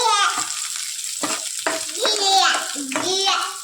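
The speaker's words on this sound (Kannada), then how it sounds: "ನೋಡಿ, ಫ್ರೈ ಆಗಬೇಕು, ಗೋಲ್ಡನ್ ಕಲರ್ ಆಗೋವರೆಗೂ ಇದ್ದು" Spices fry in hot oil until golden for temple-style Karnataka puliyogare, giving a continuous close sizzle and crackle beneath a child and an adult talking.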